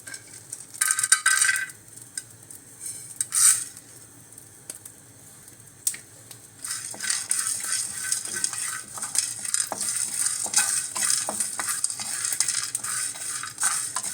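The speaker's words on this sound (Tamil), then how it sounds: "இப்போ நம்ம இந்த எடுத்து வச்சுருக்கிற இந்த மசாலா பொருட்களை லைட்டாக வறுத்துக்கலாம்." Whole spices are dry roasted in a pan for paneer kushka, giving light rattling and scraping stirs, brief clinks, then a dense, steady rustle as they toss in the hot pan, with no talking.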